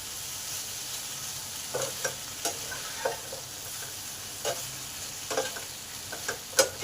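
Curry cooking in a covered pan gives off a low steady sizzle, broken by about a dozen scattered scraping and clinking strokes of a spoon stirring it. No one speaks.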